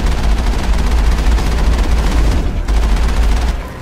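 Heavy vehicle-mounted gun in Mass Effect on Therum fires a sustained, loud burst of rapid shots into a rock face, dense booming rounds continuing almost without pause before easing off near the end.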